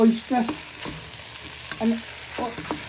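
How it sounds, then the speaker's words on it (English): Egg and pork fried rice sizzling in a pan as it is stirred, with a steady frying hiss broken by several scraping, clattering strokes of a utensil against the pan, close and fairly loud, with no talking. "you're adding your egg to warm your egg back up in the pan"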